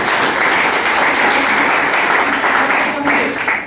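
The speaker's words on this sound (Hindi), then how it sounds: "फ्रीलांस के लिए एक बार जोरदार ताली, जोरदार।" Loud, dense applause fills a hall during a business plan presentation, many hands clapping together in a steady roar that stays strong throughout and eases only slightly at the end.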